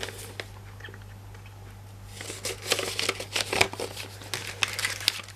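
A paper envelope is handled close up, giving irregular crinkles and rustles that grow busier partway through over a faint steady hum.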